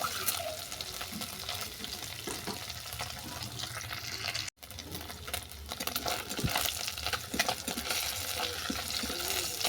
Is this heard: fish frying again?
yes